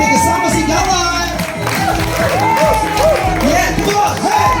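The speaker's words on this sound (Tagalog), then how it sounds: "Palakpak may kasama sigawan" Guests clapping and cheering loudly at a 60th birthday party, a busy mix of applause, whoops and shouting with background music and voices talking over it.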